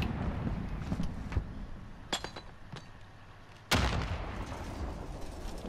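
A grenade explodes in Modern Warfare gunfight play: a sharp, loud blast partway through with a rumbling tail, after scattered earlier shots and clinks.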